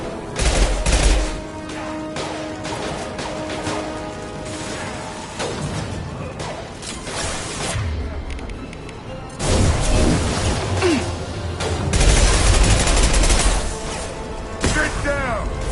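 Heavy gunfire in Mass Effect 2 combat, dense volleys of shots and crashing impacts in loud clustered bursts with short lulls, voices mixed in the fray.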